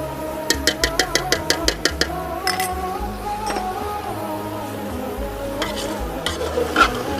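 A spoon stirs green and red chillies with home-ground red chilli frying in a pan, a quick run of clinking strokes followed by scattered scrapes over a steady sizzle.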